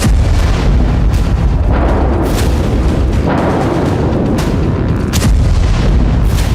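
Bombing explosions strike Gaza, heavy booms and blasts rolling one after another with dense rumbling between them, loud and close-sounding throughout with no pauses.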